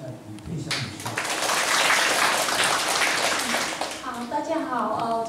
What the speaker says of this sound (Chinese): 然后我们请掌声欢迎一下李佩香女士。